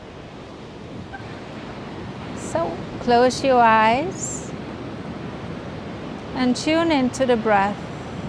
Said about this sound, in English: Today it's a windy day here, so there's lots of air coming.